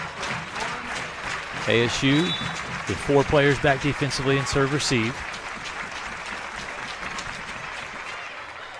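Lady Buff home crowd at a West Texas A&M versus Angelo State women's volleyball match, standing and cheering at set point, a broad sustained roar with applause under continuous commentary, swelling briefly in the middle before settling.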